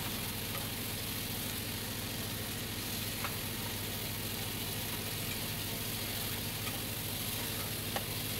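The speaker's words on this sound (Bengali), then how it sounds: "একটু ভালো করে কষিয়ে নিচ্ছি।" Bottle gourd and pigeon pea dal with spices, coriander leaves and a slit green chilli sauté in a pan, giving a constant, even sizzle with a faint tick or two and no talk.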